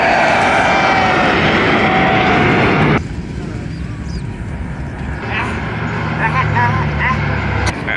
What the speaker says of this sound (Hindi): यहाँ जहाज वगैरह जंगी जहाज उठते हैं